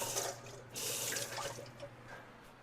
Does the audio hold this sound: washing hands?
yes